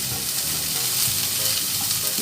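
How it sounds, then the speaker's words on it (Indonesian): Ordinary green beans frying loudly in a pan, a dense continuous sizzle broken by soft stirring scrapes, close by and with no voices. "yaitu buncis yang biasa. Nah, kita aduk."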